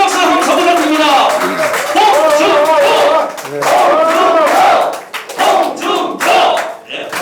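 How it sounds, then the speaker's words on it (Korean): Crowd at a political rally in Andong, North Gyeongsang, clapping and shouting a chanted cheer together, loud and close, with a speaking voice on a microphone mixed in. "힘찬 박수 감사 부탁드립니다."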